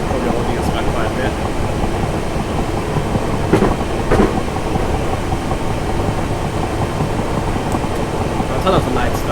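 Passenger train in Train Simulator 2018 on the Guildford to London Waterloo line, a steady, loud rumble of the moving train with a few faint clicks over the top, heard without speech.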